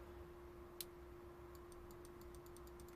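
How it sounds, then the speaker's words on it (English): Brake light switch on a Mercedes A170 W168 with a brake release switch fault, giving faint, light repeated clicks, one louder tick followed by a quick irregular series, over a steady low hum. "I don't know if you can hear it clicking."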